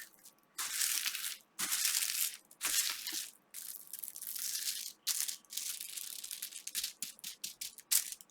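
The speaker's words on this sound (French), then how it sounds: "Je les protège comme ça avec le plastique transparent." Transparent plastic sheet covering a diamond painting canvas crinkles and crackles close up in repeated bursts of sharp, crisp rustling separated by brief pauses.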